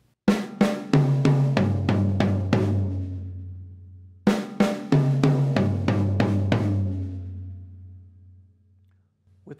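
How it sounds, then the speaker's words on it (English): A drum fill on an acoustic kit, two snare hits, two mounted tom hits and four floor tom hits, played twice as crisp, close, ringing strokes that descend in pitch, with the toms left to decay. "we're going to play two notes on the snare drum, two notes on the mounted tom, and four notes on the floor tom."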